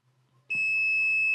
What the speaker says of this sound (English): with my meter set to continuity, I'm going to start checking all of these wires to see which pair makes a beep